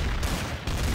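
Gunfire from the online shooter game Trouble in Terrorist Town, a dense, loud burst of rapid shots filling the moment without pause.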